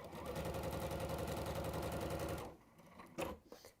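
A sewing machine runs a holding stitch on a quilt, a fast steady mechanical whirr of rapid needle strokes for about two and a half seconds before stopping, followed by a few faint handling clicks.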